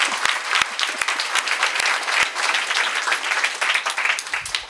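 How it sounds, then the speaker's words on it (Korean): A church congregation at a Sunday worship service bursts into dense, steady applause of thanks to God, many hands clapping together in a close, continuous wash with a few sharper claps standing out, no talking over it. "우리 하나님께 감사의 박수 한번 드리겠습니다"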